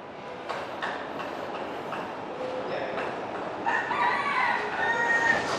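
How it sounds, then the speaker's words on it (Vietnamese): A rooster crows at midday in a residential alley beside an apartment block in District 5, Saigon, its calls rising over a steady rumbling urban background, moderately distant and with no voices nearby. "Tiếng gà gáy trưa."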